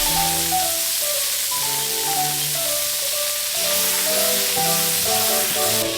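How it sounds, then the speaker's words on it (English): Onions sweat in a pan over medium-high heat, giving a steady, close sizzling hiss that runs throughout beneath melodic background music. "sweat down 1/4 worth of onions on medium to high heat."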